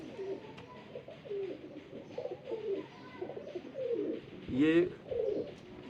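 Pigeons coo repeatedly nearby in soft, throaty bursts, with a brief spoken word over them and a steady low background hum.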